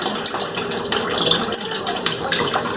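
Melted homemade ballistics gel pours in a steady, thick, slimy gush, loud and continuous with small splashy fluctuations throughout.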